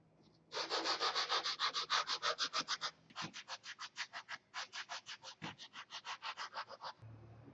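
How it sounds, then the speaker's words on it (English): Rapid rhythmic back-and-forth rubbing of a sanding stick on foam, two bursts of steady strokes with a brief pause between. "I'm going to go ahead and take a sanding stick and flatten these up and clean these up."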